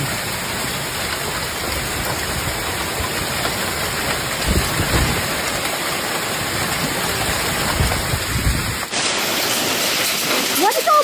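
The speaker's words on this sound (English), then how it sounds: "Hail." Heavy rain and hail pound a surface during a powerful Canada Day thunderstorm in Ottawa, a dense, steady roar throughout with a louder burst midway and a sudden shift near the end.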